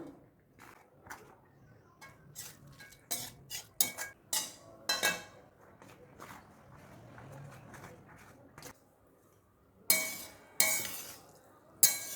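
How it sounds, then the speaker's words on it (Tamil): Mint rice being stirred in a pan, with scattered metallic clinks and scrapes of a utensil against the pan in uneven bursts, some louder clusters near the end, and quiet gaps between. "இப்போ இதில் கொஞ்சம் கொஞ்சமாக போட்டு நம்ம கிளறி விடலாம்."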